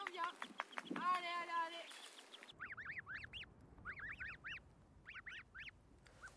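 Snow geese honk in a loose series of nasal calls near the Arctic Circle in spring, at hatching time; people talk over rustling before the geese begin, then the calls come clear and repeated at moderate distance.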